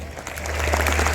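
Applause at a mushaira poetry gathering in a university hall: a brief spell of clapping that grows from thin to fuller over about a second, with a low electrical hum underneath.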